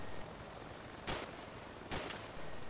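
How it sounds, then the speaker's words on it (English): Hip-fired gunfire in the game Arma 2: Operation Arrowhead, with two short, sharp bursts about a second apart over a steady background hum. "okay, horrible hip fire"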